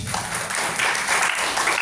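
Church congregation applauding during a sermon, a short burst of dense clapping, steady and fairly close, with no clear talk over it.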